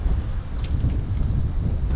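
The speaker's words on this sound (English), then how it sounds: "The wind makes it tricky" Strong wind buffets the microphone during kayak fishing on the water, a steady low rumbling roar with faint rustle throughout.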